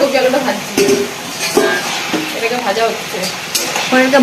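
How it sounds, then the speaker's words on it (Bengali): Cabbage and potatoes fry in a pan with a loud, close sizzle and intermittent scraping stirs, while a person talks over the cooking throughout. "কফি আর আলু কফি আর আলু ভাজছে"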